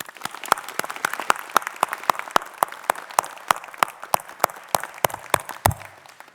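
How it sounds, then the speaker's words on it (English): Clapping from a graduation ceremony audience at Massey University, Manawatū, heard as sharp, distinct, evenly spaced claps, a few hands rather than a full crowd, close and fairly loud, stopping near the end. "Let's give her another round of applause."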